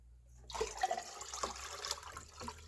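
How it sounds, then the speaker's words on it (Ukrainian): Boric acid fertilizer solution for tomatoes pours out in a steady splashing stream after a brief silence, continuing for a couple of seconds at moderate loudness. "Все це я виливаю тепер"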